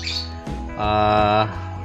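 Caged birds squawk loudly nearby, two harsh calls with a longer, strained squawk in the middle, heard close and alone.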